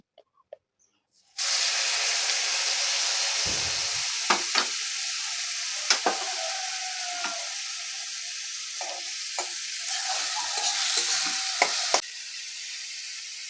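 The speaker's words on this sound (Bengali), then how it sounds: "পেঁয়াজটা হালকা লাল করে ভেজে নিয়ে" Onions fry in a kadai with a sudden loud sizzle that starts as they hit the oil and then holds steady, broken by repeated sharp scraping and tapping of a spatula against the pan.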